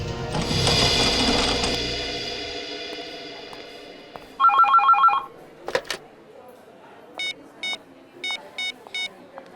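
An electronic phone rings in repeated short trilling bursts after a loud clattering noise fades, the rings spaced evenly in a quiet room.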